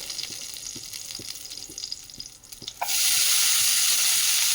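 Chopped carrot, capsicum and cabbage hit a hot pan after mustard seeds and curry leaves: quiet crackling and light stirring give way to a sudden loud, continuous hiss of sizzling close by.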